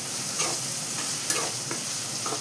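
Curry leaves and white onions sizzle in a pan with a steady hiss, broken by a few soft scraping stirs at intervals, close and moderately quiet.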